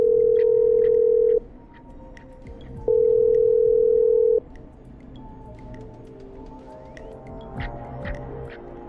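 Telephone call being dialed to a power station in the video game Killer Frequency: two long steady ring tones separated by a short gap, loud and close over a faint background hum, followed by quieter low tones.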